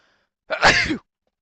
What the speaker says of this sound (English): Oh, I just sneezed.